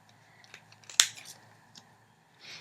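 Scissors make one sharp snip through nail wrap sheets, cutting them in half, with a few faint handling rustles before and after in a quiet room.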